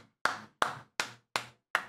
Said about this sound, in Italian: Un applauso a me, per favore.